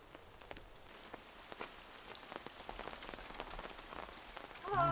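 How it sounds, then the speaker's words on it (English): Light rain patters steadily on surfaces outdoors in May, faint and soft with scattered drop impacts throughout. "The rain's starting up again, Claire."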